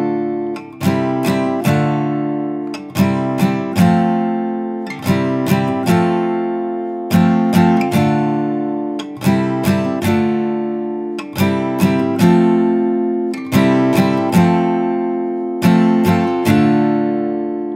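A guitar strums the repeating chord progression of a song, each strike ringing out and decaying before the next, at an even, unhurried pace.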